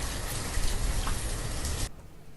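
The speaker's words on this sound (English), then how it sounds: "And it's raining." Rain in the video game Banished, a dense, loud hiss of falling drops that cuts off abruptly near the end, with no talk over it.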